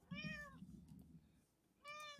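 A cat meows twice, close and clear, with a pause between the calls, over a low rumbling background hum.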